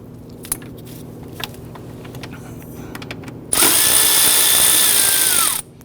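A power tool on a 2011-2015 Kia Sorento loosens and removes 10mm bolts: a loud, steady whir of about two seconds starts abruptly and cuts off, after quieter clinks and taps of tools and parts.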